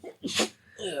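One short, sharp sneeze from a person nearby, opening with a quick intake of breath and ending in a loud burst, followed by a little breathy noise.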